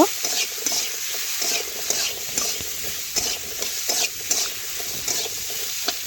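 Vegetables frying in a pan with salt and turmeric, stirred with repeated scraping strokes over a steady close sizzle, no talk.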